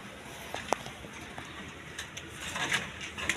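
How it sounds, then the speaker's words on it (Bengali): Caged high-flying Giribaz pigeons coo softly at close range, with a few short calls rising over a steady background hiss and faint clatter. "এইখানে আমার কিছু কবুতর কিনা আছে, ইয়ে গিরিবাস, হাই ফ্লাইং গিরিবাস আর কি।"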